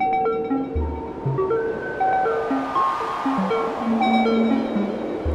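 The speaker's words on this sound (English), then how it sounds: "Here comes the white noise wave." White noise swells like an ocean wave from a VCV Rack modular synthesizer patch, a broad airy rush that rises and falls beneath a run of stepped synth tones, steady and fairly loud throughout.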